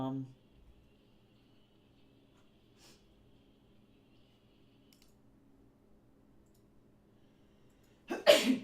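After a long near-silent stretch, a single loud, sharp sneeze bursts out close by at the very end.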